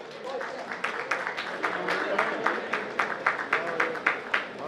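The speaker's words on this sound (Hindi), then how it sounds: "प्लीज तालियां।" An audience claps for students being honoured at a prize ceremony in a community hall, a run of fairly regular, close hand claps that builds in rhythm, with a voice talking alongside.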